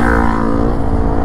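A motorcycle engine drones loud and close in a brief, steady burst of revving, with no voices.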